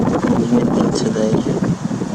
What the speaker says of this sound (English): Pretty breezy today for some reason.